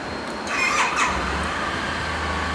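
A 2008 Suzuki Burgman 650 Executive scooter engine cranks with a brief squealing whine, then catches and settles into a steady low idle, close by and moderately loud.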